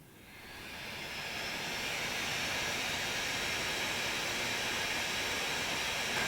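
A 2017 13-inch MacBook Pro laptop fan spinning up to high RPM, a loud steady airy whoosh that swells over the first two seconds and then holds constant, alone without talk.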